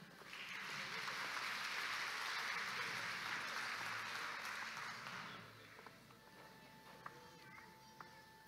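An audience at an engineers' professional induction ceremony applauds for about five seconds, a dense steady clapping that fades out, followed by quiet room sounds with faint clicks.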